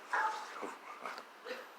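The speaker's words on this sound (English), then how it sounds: "Dogs are barking." Dogs bark faintly in the background, with a few short yips and barks spread unevenly over a couple of seconds.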